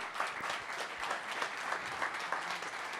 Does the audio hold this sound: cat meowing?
no